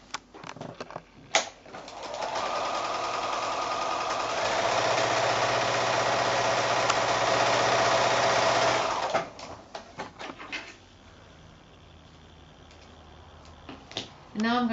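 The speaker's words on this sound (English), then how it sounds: "back to the sewing machine to do some more sewing. Another 1/4-inch seam along here." A home sewing machine stitching a 1/4-inch quilting seam runs in one steady whirring burst of about seven seconds, close and clear, with handling noises and quiet room sounds before and after.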